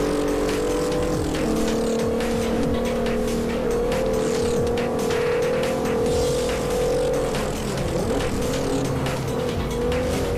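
A car in the Forza 4 game drives hard, with a loud, sustained engine drone that rises and falls, tire noise and quick passing sounds throughout.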